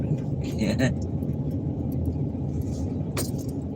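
A car rolls in close by with a low steady engine rumble and road noise, plus brief jangling and clattering bursts near the start and end; a voice talks over it.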